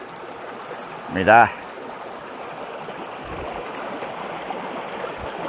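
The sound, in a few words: river stream flowing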